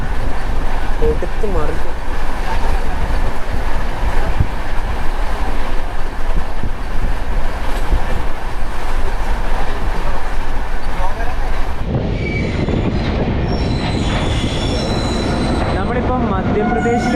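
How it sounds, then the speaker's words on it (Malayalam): The Kerala Express, running from Thiruvananthapuram to New Delhi, rushes along at speed as heard from inside a sleeper class coach, with a loud, steady roar of wheels and rail noise that shifts in tone near the end; someone speaks briefly. "കേരള എക്സ്പ്രസ് ശരിക്കും പറഞ്ഞാൽ ഈ ഒരു സെക്ഷനിൽ എത്തിയപ്പോൾ പറക്കുക വണ്ടി, സ്പീഡിനൊന്നും ഒരു കുറവുമില്ല"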